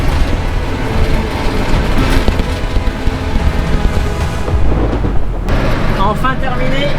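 Evening thunderstorm with rain over farmland, a broad rumbling roll of thunder building and sustained, followed by a sharp crack, with rain noise beneath and faint voices.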